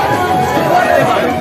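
A crowd of pilgrims on the Vaishno Devi yatra makes a steady, close hubbub of overlapping chatter and shuffling movement.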